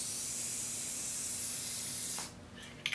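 Aerosol coat sprayed onto a 2005 Cadillac STS headlight during restoration, a loud steady close hiss lasting over two seconds, then cutting off into quieter handling clicks.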